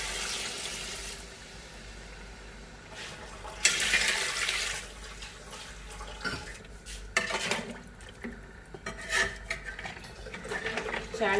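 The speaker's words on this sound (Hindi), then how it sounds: "अब हम इसमें पानी ऐड करेंगे। पानी हमें तकरीबन 6 लीटर इसमें ऐड करना है।" Water is poured into a pot of mutton paya, a rushing splash in several bursts with clinks of the pot between them, moderately close, with faint kitchen noise.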